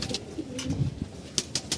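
Domestic pigeons coo in short, soft, throaty calls at close range, with a few scattered chirps and rustles around them and no talk.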